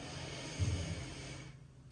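A single deep inhale during a standing yoga breathing exercise, quiet and close, a soft breathy rush through the nose that fades out after a second or two.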